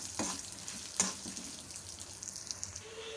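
Urad dal and dried red chillies roast in a pan for a spiced brinjal rice mix, giving a low continuous sizzle with a few sharper scraping clicks from stirring, fairly quiet and steady throughout.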